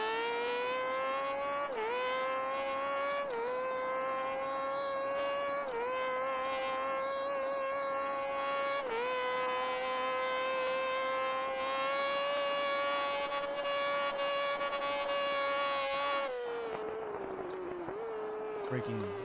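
A MotoAmerica race motorcycle's engine screaming at high revs, the pitch dropping in steps as it downshifts and brakes into a corner, loud and close throughout.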